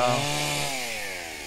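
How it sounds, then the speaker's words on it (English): A chainsaw cutting a casuarina tree branch drones loudly and close, its harmonic engine whine steady and then slowly falling in pitch as it bogs into the wood, with no speech. "he's just here with his chainsaw cutting down a branch"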